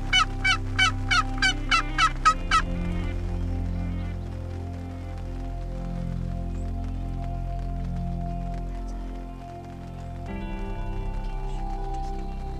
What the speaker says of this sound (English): she just spotted four big toms headed her direction